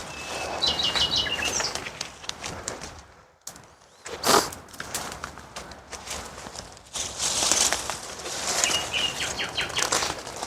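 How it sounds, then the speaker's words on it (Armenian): A small bird sings from a lilac tree in a new orchard, its short high chirps faint and intermittent over outdoor rustling, footsteps and a few sharp knocks. "Ինչ հավեսին է ծիտը կանչում է"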